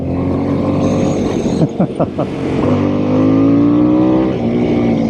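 A stock Harley-Davidson Sportster S motorcycle engine drones loudly up close, briefly drops off as gears shift, then climbs in pitch as it accelerates hard, with a voice mixed in.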